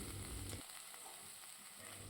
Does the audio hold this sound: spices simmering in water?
yes